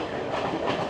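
Intercity express train running between Kandy and Colombo in Sri Lanka, a steady close rumble of rolling carriages with a faint clickety-clack of wheels over the rails throughout.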